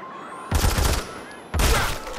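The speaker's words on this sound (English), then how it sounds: "Heads up, you're being sniped." Sniper rifle fire in the video game Sniper Fury, set in a park: two loud, heavy blasts about a second apart, each with a booming low end and a long bright ringing tail.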